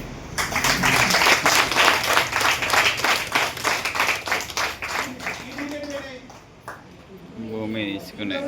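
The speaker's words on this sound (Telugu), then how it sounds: "క్లాప్స్" Clapping from a classroom of students, rapid rhythmic claps filling the first several seconds loudly and close, then fading as a teacher's voice takes over.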